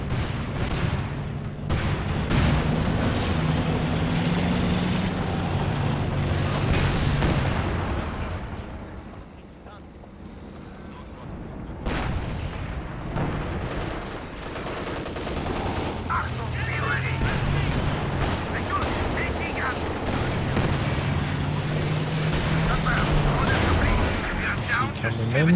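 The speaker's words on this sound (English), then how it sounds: "Coming in, drops the artillery on the AT gun." Artillery strike landing on an AT gun in Company of Heroes 2, a 2v2 match; a dense stretch of booming blasts and rattling gunfire that dips briefly before the barrage resumes, loud throughout with commentary over it.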